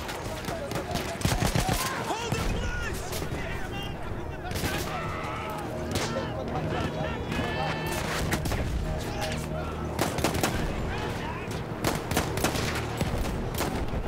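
Dense, continuous gunfire from Battlefield 1, with rapid volleys and bursts layered over a loud battlefield din, close and sustained throughout.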